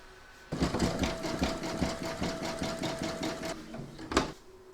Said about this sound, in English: that's going to do the satin stitch around the bobble